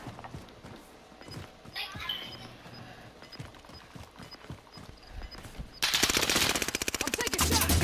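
Rapid bursts of automatic gunfire from the Warzone video game, a dense rattling string of shots that grows louder and more continuous toward the end, with faint game voices in the background.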